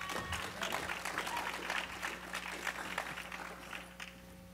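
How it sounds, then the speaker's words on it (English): Audience applause fills a hall at the 2015 SVVR virtual reality conference, a dense, steady wash of many hands clapping for about four seconds before tapering slightly at the end. "Let's give him a round of applause."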